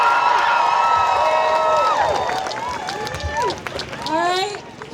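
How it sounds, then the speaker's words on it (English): A campus rally crowd at a graduate student union strike cheers and applauds, with whoops and shouts rising over a sustained roar, near and loud, while voices call out throughout. "Let's hear a round of applause"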